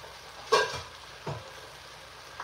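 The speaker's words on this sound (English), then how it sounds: "Do you hear that sizzle on that rice?" Rice sizzles and hisses softly in a hot skillet with a couple of brief scraping stirs, fairly quiet and close.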